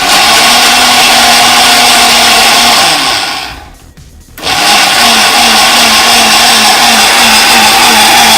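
A kitchen blender whirs loudly and steadily while mixing a morning drink, its motor tone dipping briefly near the middle as it pauses, then surging back to full speed for the rest.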